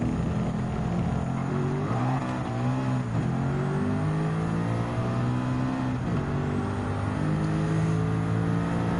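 Peugeot 206 Turbo Evolution 2 race car in Gran Turismo 7, its engine revving loudly and steadily with rising and falling pitch as it accelerates and shifts, close and continuous with no talking.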